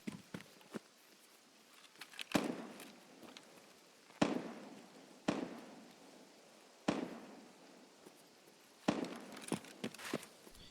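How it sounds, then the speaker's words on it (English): Distant gunfire in Escape from Tarkov, heard as a handful of sharp, scattered cracks spread irregularly over a quiet background, each with a short fading tail. "that might be Sanitar shooting"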